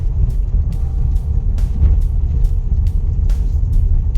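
Steady low rumble inside a 2020 Volvo V60 T5 R-Design with a 2.0 turbo engine and automatic gearbox rolling over cobblestones, with faint rhythmic thumps from the uneven surface and no voices.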